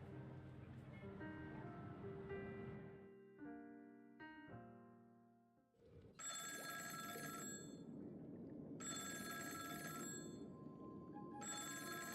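A telephone rings in Honkai: Star Rail, first as tonal chimes that fade out, then as bright, loud repeated bursts of ringing in a steady on-off rhythm over a low rumbling ambience.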